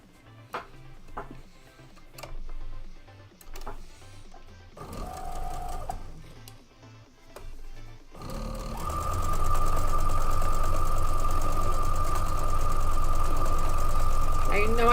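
A sewing machine stitching batik fabric, first in short separate bursts between pauses while a person talks, then running steadily and loudly at full speed with a constant mechanical hum.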